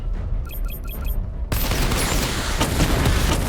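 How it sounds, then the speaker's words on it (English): A missile barrage erupts in the video game Batman: Arkham Knight: a few short electronic beeps give way to a sudden, loud, sustained roar of rapid-fire blasts that continues steadily to the end. "Missile barrage level 2 ready."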